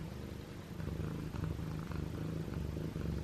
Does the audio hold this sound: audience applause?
no